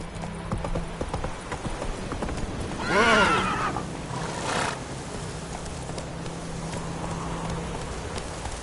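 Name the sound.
horse hooves clip-clopping in video game The Witcher 3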